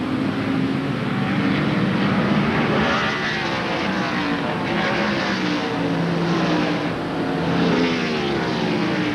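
Mark Martin's Ford stock car accelerates off a corner at Sears Point during the 1995 NASCAR Winston Cup race, a loud sustained engine drone with rising harmonic pitch, mixed with other cars on track and crowd-like wash.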